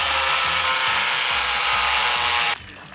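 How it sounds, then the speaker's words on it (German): An angle grinder cuts through iron rods on a building site, a loud, harsh, high-pitched grinding screech with a faint rhythmic pulsing underneath, then it suddenly drops off as the cut ends. "Hier so Eisenstangen, die kloppen wir immer in den Boden rein und deswegen flexen wir die jetzt."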